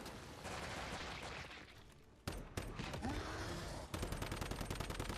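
Gunfire from shooting at a boss's arm in the video game Once Human: dense, loud bursts of rapid automatic shots that run almost nonstop, with a brief lull before heavier, sharper volleys resume.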